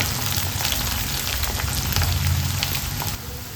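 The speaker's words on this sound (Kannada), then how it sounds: "ಕರಿಬೇವು ಸೊಪ್ಪು ಎರಡು ರೆಕ್ಕೆಯಷ್ಟು ಸೇರಿಸ್ಕೊಳ್ತಾ ಇದ್ದೀನಿ ಈರುಳ್ಳಿ ಚೆನ್ನಾಗಿ ರೋಸ್ಟ್ ಆಗಬೇಕು" Chopped onions and curry leaves frying in oil, a dense continuous close sizzle that holds steady and eases slightly near the end.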